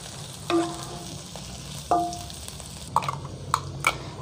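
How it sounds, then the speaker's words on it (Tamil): Cumin seeds and crushed cardamom frying in a pan for Jaffna mutton curry, a low sizzle under several distinct scraping strokes of a spoon against the pan, a few sharp clinks near the end, no talking. "சின்ன ஜீரகம் போடுறேன், நாங்கள் இடித்து வச்ச அந்த ஏலக்காயை போடுறேன். கொஞ்சம் கிண்டி விடுவோம்."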